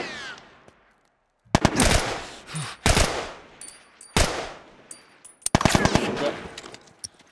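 Video game gunfire in The Last of Us: loud, close bursts of rapid shots and single cracks, separated by brief silences, after a quiet opening.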